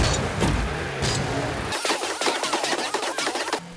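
Car driving and jumping on a snowy map in the video game Rocket League: an engine roar gives way to rapid, rattling bursts of boost and landing noises, close and busy.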